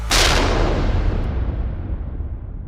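A single gunshot sound effect, a loud booming blast with a long decaying rumble that fades over a couple of seconds, heard alone.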